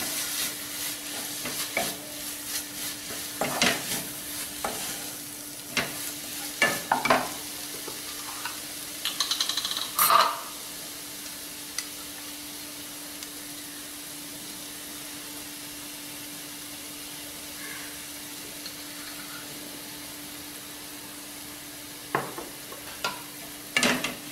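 A mixture being stirred in a pan while making a chocolate Swiss roll, with soft scraping strokes over a constant low hiss, some knocks, and long quiet stretches in between.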